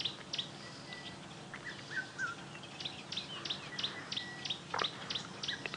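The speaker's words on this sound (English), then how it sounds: "You can hear orange-breasted bushshrike calling and a red-chested cuckoo in the distance." Outdoors on an early-morning safari drive, an orange-breasted bushshrike calls in repeated clear whistled notes while a red-chested cuckoo sounds farther off, amid a chorus of other faint birds and chirps.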